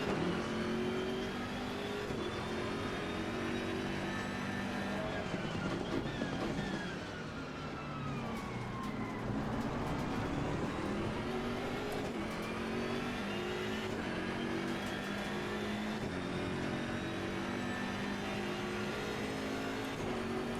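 Race car engines roar continuously in Assetto Corsa Competizione, with a loud, close engine note rising and falling through gear changes and revs, dense and unbroken throughout.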